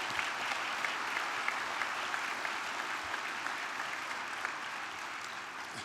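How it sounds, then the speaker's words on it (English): An audience at a 2019 event claps steadily for a speaker's mother, a sustained wash of applause at moderate volume with no voices over it. "I really feel like she deserves a round of applause"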